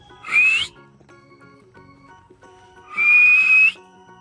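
Two bright whistle notes from a person calling a German Shepherd dog, a short one followed after a pause by a longer sustained one, loud against a quiet background.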